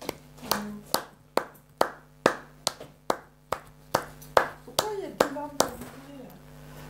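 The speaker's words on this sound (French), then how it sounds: "Tu peux applaudir, chérie, si tu veux." One person claps slowly and unevenly at home, each crisp clap standing apart with short gaps, while a nearby voice talks intermittently.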